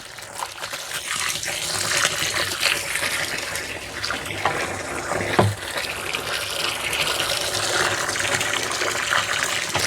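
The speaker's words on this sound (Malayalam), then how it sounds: "ഈ ഓസ് വെച്ച് നമുക്ക് ഇതിനകത്ത് നാൽപ്പത് ലിറ്റർ വെള്ളം നിറയ്ക്കാം" A hose runs water into a container being filled with about forty litres, a loud continuous gushing pour heard up close with slight shifts in tone.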